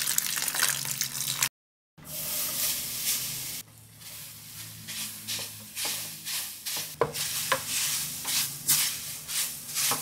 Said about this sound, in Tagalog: Banlawan agad natin ng tubig.